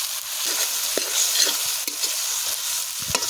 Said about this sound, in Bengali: তো বন্ধুরা ভালো করে ভেজে নিতে হবে, পেঁয়াজটাকে কষিয়ে নিতে হবে